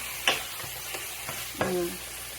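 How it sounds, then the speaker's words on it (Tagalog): Two spatulas stir coconut chicken in a frying pan, with a low steady sizzle broken by several distinct scraping clacks of metal against the pan at irregular intervals. "gusto ko yung dalawang spatula guys para talagang todo halo"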